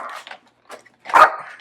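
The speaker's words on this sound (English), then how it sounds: "she'll just bark at me until she gets a treat" A dog barks for a treat at home, a few short close barks with a louder burst near the end, no talk in between.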